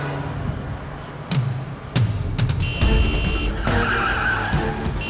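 A car skids with sharp tire squeals, a few short screeching bursts over engine noise, fairly close and loud with no talk.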